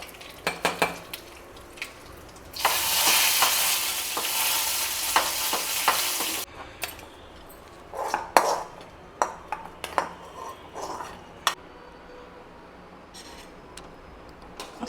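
Mustard seeds and a dried Byadagi chili hit hot oil for a temple-style sambar tempering, setting off a loud crackling sizzle for several seconds, followed by scattered clinks of a metal spoon and pan.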